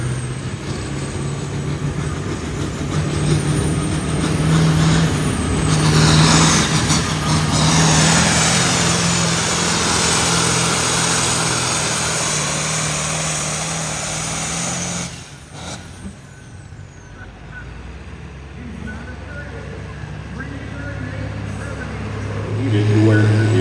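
An Oliver tractor called the Jackhammer roars under heavy, sustained engine load on a truck and tractor pull track at the Jones County Fair. The drone is steady and loud, then dips near the end and swells again.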